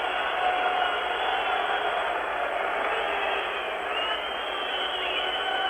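Hockey crowd in a Moscow arena at a 1972 Canada versus USSR game: a steady, dense roar of spectators with shrill whistling, continuous and unbroken throughout.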